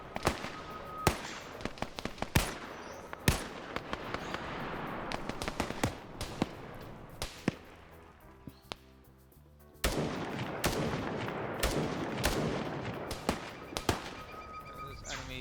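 Rapid bursts of video game gunfire during a military operation crack out repeatedly, some in quick volleys, with a brief quieter lull before the shooting resumes.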